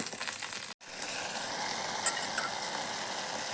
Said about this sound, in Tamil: ஆயில் சூடாயிருச்சு சீரகம் கொஞ்சம் சோம்பு பட்டை லவங்கம் பிரிஞ்சி இதெல்லாம் கருவேப்பிலை சேர்த்துருக்கேன்